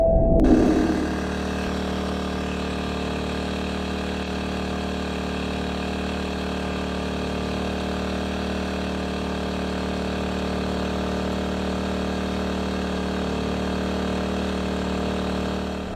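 A boat's motor drones on a lake in a steady, low hum without a break, with a louder burst at the very start and then an even, continuous running sound.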